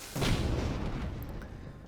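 An airship explodes in the video game Airships: Conquer the Skies, a sudden deep boom that swells and then rumbles away for over a second, fairly quiet in the mix.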